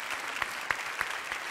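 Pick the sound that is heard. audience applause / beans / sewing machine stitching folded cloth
audience applause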